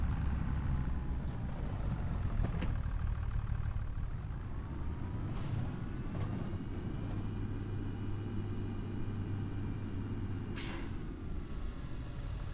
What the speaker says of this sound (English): And the tractor should have warmed up by now, so everything is good and dandy.